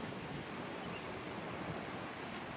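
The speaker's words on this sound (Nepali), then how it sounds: "काबेली चाहिँ नदी हो यो" The Kabeli river flowing, a steady broadband rush of water heard from nearby, continuous and even with no breaks or voices.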